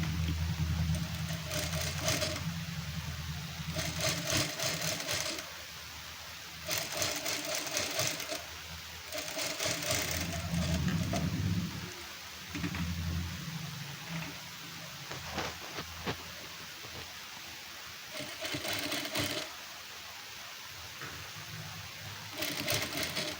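A sewing machine runs in repeated bursts of steady whirring stitching, stopping and starting several times, while topstitching a V-neck blouse; no talking.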